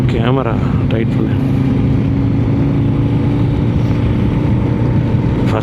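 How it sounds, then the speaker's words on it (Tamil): A motorcycle engine drones steadily and loudly while the bike is ridden on a long highway trip, its low rumble continuous under wind buffeting, with a brief spoken voice near the start. "இன்ஜின் காலையிலேருந்து ட்ரன்னு ஓடிக்கிட்டே இருக்குது."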